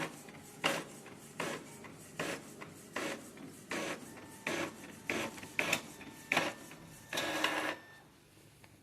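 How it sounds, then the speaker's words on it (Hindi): A photocopier printer copying an Aadhaar card, with a steady series of regular mechanical clunks and whirring passes, each followed by a brief pause, and a longer scanning sweep near the end, close and without talk. "ये देखिए, फ़ोटोकॉपी होना शुरू हो गया है।"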